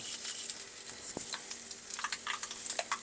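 Mustard seeds popping in hot oil in a pan for a Kerala brinjal pachadi, scattered sharp crackles and spits over a faint, steady sizzle, no voices.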